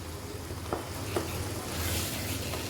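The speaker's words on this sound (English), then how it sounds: "We'll keep mashing like this in between such that the onions and tomatoes get mashed too." Onions and tomatoes frying in a pan for Parsi sali kheemo while being mashed, a steady close sizzle with a few soft scraping knocks of the utensil, no talking.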